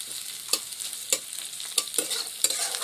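Egg rice with peas frying in a pan, a steady bright sizzle broken by regular scraping strokes of a spatula about every half second; close and clear, no voices.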